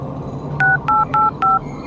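Four short, evenly spaced touch-tone beeps sound as a phone number is dialed, loud and clear over a faint background hum.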